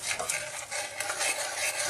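Kashmiri masala paste is stirred and cooked down in a pan, a close scraping stir over a soft, constant sizzle, no voices.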